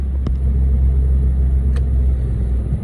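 A Citroen C1 small hatchback drives slowly around a car park, its engine a steady low rumble heard from inside the car, close and continuous, with two brief clicks.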